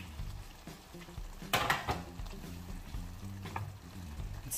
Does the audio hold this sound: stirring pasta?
yes